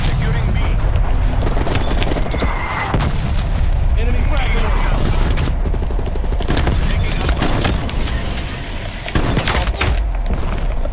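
Gunfire from an AK-style rifle in the Call of Duty Black Ops Cold War video game, loud dense bursts and booms that continue almost without a break, with a player talking over them.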